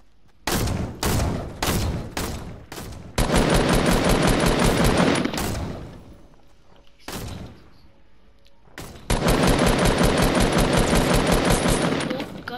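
Fortnite gunfire: several single sharp shots, then long sustained automatic bursts, loud and close, separated by short pauses, with a voice faintly present.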